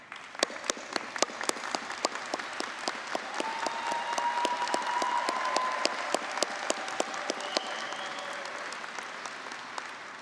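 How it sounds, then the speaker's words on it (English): A large commencement audience claps together in sustained, dense applause of many hands, steady and loud from start to finish with sharp individual claps standing out, and no speech over it. "Graduates, let's stand up and give them a round of applause."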